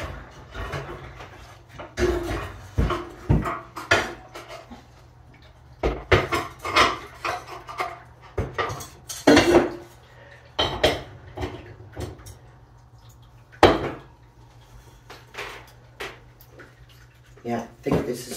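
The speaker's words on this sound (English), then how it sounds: "So let me get a ceramic pot" A ceramic plant pot being fetched and handled while repotting a houseplant: a string of hard clinks, knocks and scrapes at irregular intervals, close by, with a steady low hum underneath and a person talking at times.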